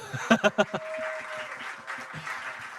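Congregation at a Korean young adults' church service clapping as a newcomer is welcomed, with a few quick claps and then a sustained patter of applause mixed with a hum of voices.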